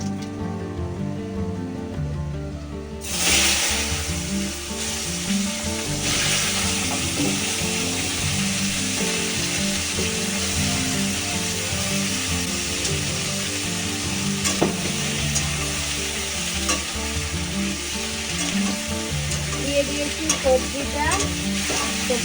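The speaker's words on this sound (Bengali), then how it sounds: "এবার তেলে আমি দিয়ে দেবো সবজিটা" Vegetables hit hot oil already seasoned with a dried red chili and whole cumin. After a quieter few seconds, a loud sizzle erupts and keeps crackling steadily and densely up close, with occasional stirring scrapes.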